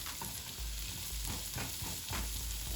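Vegetables sauté in a hot pan ahead of shrimp and lobster tail for a grilled quesadilla, a steady loud sizzle broken by several scraping stirs and low knocks of a utensil, with no talking.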